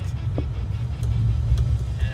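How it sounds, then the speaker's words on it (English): Road traffic heard from inside a car stuck in a jam: a steady low engine and road rumble fills the cabin throughout, with no talk over it. "today we are stuck in traffic"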